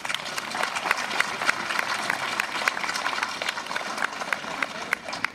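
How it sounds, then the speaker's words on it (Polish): An audience at a book launch event in Choryń claps for a young performer with brisk, uneven clapping from a modest crowd, and faint voices sound under it. "Brawa dla Alicji Kowalskiej."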